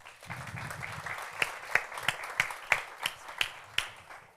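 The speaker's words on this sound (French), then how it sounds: "Applaudissez, Monsieur Yazid." Applause from a modest audience at a masterclass, loose clapping that settles into a few distinct, fairly close hand claps standing out over the softer patter.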